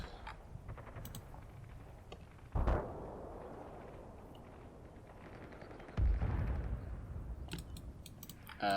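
Mortar fire in the WWII Normandy hedgerow battle of the computer game Combat Mission: Battle for Normandy lands as two heavy, distant booms several seconds apart, each rolling away over a quiet low background.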